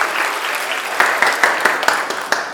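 An audience at a talent show claps steadily, a dense, moderately loud applause with scattered sharper individual claps throughout.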